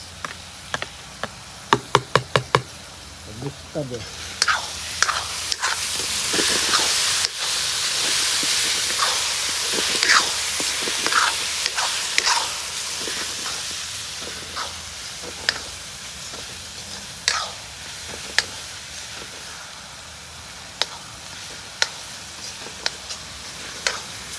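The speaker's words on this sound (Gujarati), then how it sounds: "આપણે મરચા અને આદુ નાખ્યા પછી થોડી વાર ફ્રાય કરવા દીધું" Crushed green chili and ginger fry in a pan with a loud, steady sizzle and hiss, punctuated by sharp clicks and utensil taps that return through the half-minute, close by and without speech.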